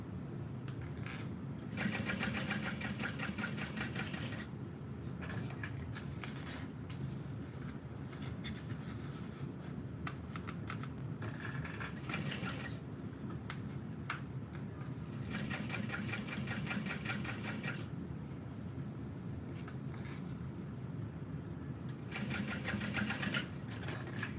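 A sewing machine top-stitches fabric in long runs of rapid, steady mechanical whirring. The runs are broken by short pauses and the machine is heard close up, without speech.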